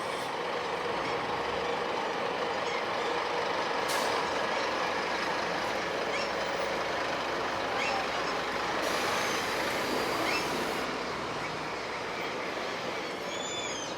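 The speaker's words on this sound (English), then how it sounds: "There's buses everywhere." Buses and trucks fill a Helsinki city street with a steady, dense traffic roar that runs throughout, with brief hissing bursts like air brakes and no voices.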